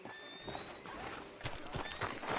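Horse hooves clip-clop on a dirt town street in Red Dead Redemption 2, a faint, uneven series of soft thuds under ambient game background noise, with no talk.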